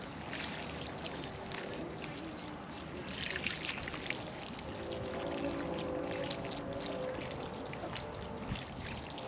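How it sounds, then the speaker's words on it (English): Water pours steadily onto a tomato plant in a field, a continuous splashing trickle lasting several seconds, moderately close with faint outdoor background. "make sure my well is set, and then I'm gonna water this guy"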